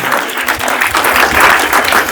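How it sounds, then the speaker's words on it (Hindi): Burst of applause from children at a road-safety event at RC Central School, dense and loud, sustained clapping close by throughout. "इसलिए ताली बजा रहा था कि सबके आप परिचित हैं"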